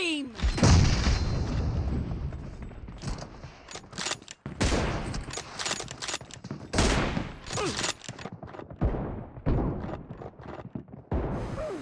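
Gunfire in the BGMI mobile game, with M24 sniper rifle shots and rapid bursts and booms in a team deathmatch. The shots come in dense clusters, separated by short gaps, with a voice talking over parts of it.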